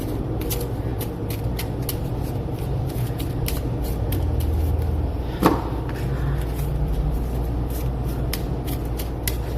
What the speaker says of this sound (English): We're gonna get these cards a nice shuffle here.